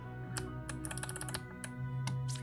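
Quick, light clicks of a computer keyboard as game hotkeys are pressed, in short irregular bursts and single taps, faint and close with no voices.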